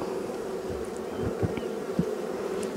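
A dense swarm of honeybees hums steadily and close while a beekeeper holds a queen bee by the base of her wings. The buzz is continuous, with a few louder passes from individual bees and no talking.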